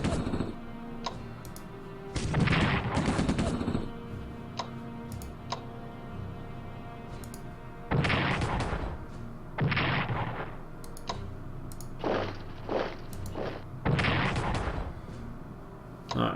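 Artillery fire in the World War II strategy game Strategic Command 1939: several separate booming bursts spread across the stretch, each loud and broadband, with quieter ticking and clicking in the gaps between them.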